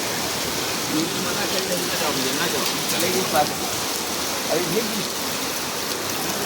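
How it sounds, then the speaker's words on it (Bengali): Steady rain in Oman hisses and patters on surfaces, a continuous wash of water noise with faint voices murmuring in the background. "ওরে আল্লাহ কি সুন্দর বৃষ্টি"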